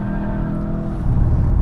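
A 2023 Volkswagen Jetta GLi accelerates hard on a race circuit, its engine droning loud and close, rising in intensity near the end.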